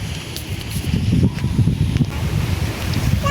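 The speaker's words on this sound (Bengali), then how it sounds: "বৃষ্টি পড়ছে যে ঠান্ডা বাতাস চারিদিকে" Cold wind blowing outdoors during rain around a rural home, a continuous low gusting rush with rustling over it, moderately loud and steady throughout.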